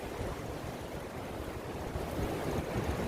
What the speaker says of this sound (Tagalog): Ang lalakas ng alon.